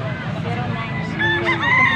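Roosters crow at an Angeles, Pampanga tiangge market, several overlapping crows rising over a busy crowded background, with people talking nearby.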